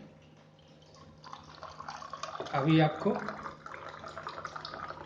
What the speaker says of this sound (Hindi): इस मीठे पानी जो मीठा पानी आ रहा है